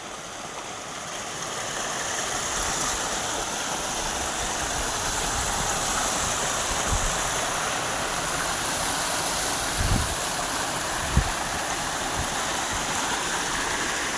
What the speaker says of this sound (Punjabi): ਝਰਨਾ ਚੱਲੀ ਜਾਂਦਾ ਭਾਈ ਝਰਨਾ ਵਗਦਾ ਹੈਗਾ